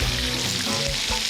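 Pork chops sear in a hot pan with a steady, close sizzle and crackle, spitting and popping continuously through a short stretch.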